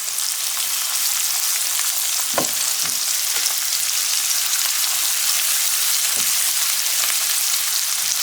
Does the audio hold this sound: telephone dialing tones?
no